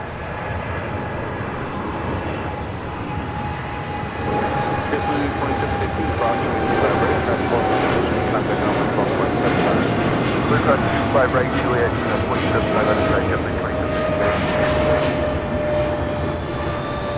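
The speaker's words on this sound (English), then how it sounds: "we got that Coletta Air 777 rolling on down to" A Boeing 777 airliner takes off at LAX, its engines a broad, continuous roar that swells gradually. A voice talks over it throughout.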